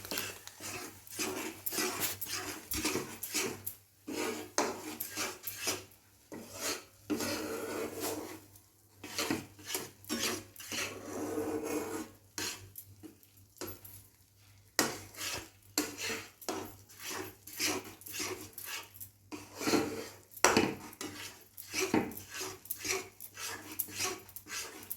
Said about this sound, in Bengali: এগুলো ভালো করে মিশিয়ে নেব সব একসঙ্গে